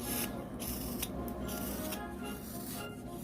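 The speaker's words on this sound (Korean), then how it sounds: "우선 저처럼 볼록한 뱃살을 깎아주겠습니다." A knife shaves the rounded belly of a hand-carved wooden whale, making a continuous dry rasping and scraping that stays close and steady, with brief lighter strokes.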